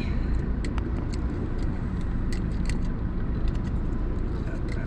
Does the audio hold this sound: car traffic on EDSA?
yes